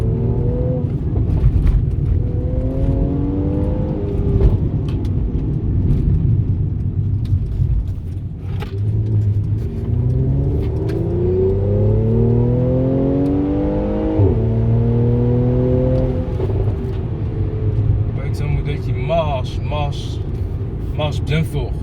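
A Mercedes-AMG C43, sold earlier as the C450 AMG Sport, revs and accelerates loudly and close up, its engine note sweeping up and down through several gear pulls with a steady low rumble underneath.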